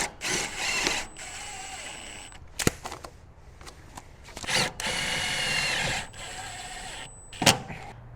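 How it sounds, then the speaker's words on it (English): A power drill whirs in several bursts as it drives a screw into a metal shop window frame, with clicks and clanks between runs, close and loud. "I'm going to put a screw in here."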